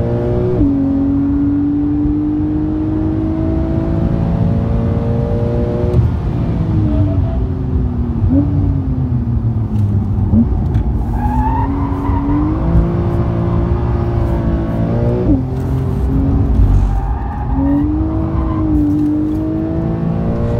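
A Porsche 911 Type 992 accelerating hard on the Hockenheim race track, the engine note climbing through gears in repeated rising whines, loud and close with a steady roar underneath.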